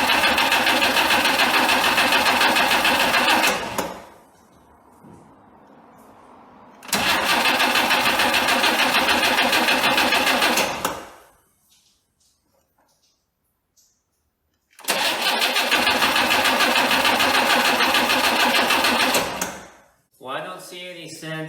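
Engine of a 1962 AMC Rambler cranking on the starter in three long, loud bursts of steady churning whir, each stopping abruptly, with quiet gaps and brief talk between attempts; it never catches.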